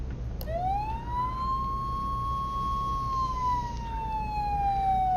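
Fire truck siren in the Flashing Lights emergency-services game holds one long, steady wail that rises, sustains, then slowly falls, loud and close over a low engine hum, with no one talking.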